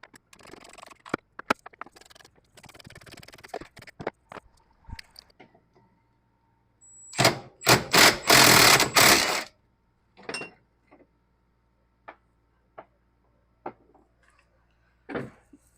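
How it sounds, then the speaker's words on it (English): A ratchet works the corner bolts loose from the vacuum brake booster of a 1975 Ford Bronco. Quick clicking bursts come at close range, with one loud cluster of clicks in the middle and scattered single clicks afterward. "So using my ratchet, we'll go ahead and remove those."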